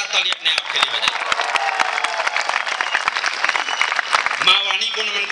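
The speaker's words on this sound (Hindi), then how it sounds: "एक बार जोरदार ताली अपने आप के लिए बजाइए।" An audience at a Hindi kavi sammelan poetry gathering claps in a dense, sustained burst of applause, many hands close and loud, continuing steadily without a break.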